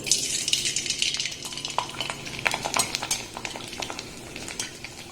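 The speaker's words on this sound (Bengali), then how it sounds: "এবার যেগুলো আমি সাবুদানা দিয়ে বানিয়েছি এই তেলের মধ্যে দিয়ে দেব।" Small sago chips drop into medium-hot oil in a wok and sizzle, with scattered metal scrapes and clinks of a spoon stirring against the pan, close and fairly quiet, no talking.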